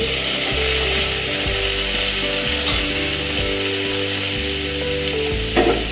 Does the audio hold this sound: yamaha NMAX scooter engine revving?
no